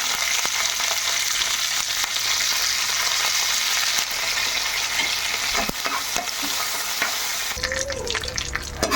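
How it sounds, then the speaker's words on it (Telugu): Green chillies, cumin seeds and curry leaves frying in hot oil for a poha mixture tempering: loud, dense crackling sizzle with scattered spoon scrapes, turning sharper and more spattery near the end. "జీలకర్ర కొద్దిగా వేగిన తర్వాత కరివేపాకు వేసుకున్నాం"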